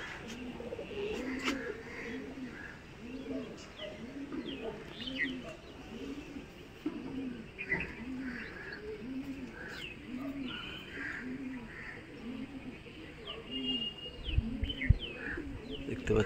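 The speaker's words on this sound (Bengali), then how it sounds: "আকাশে শুধু পায়রা আর পায়রা।" Young pigeons released for flight training coo steadily in a repeating rhythm of soft, low calls, with faint chirps and occasional wing flutters above and a few brief sharper sounds near the end.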